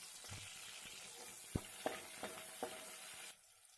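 Chopped green chillies dropped into hot oil in a pan, a soft steady sizzle with a few sharp stirring clicks and spoon taps, ending abruptly near the close.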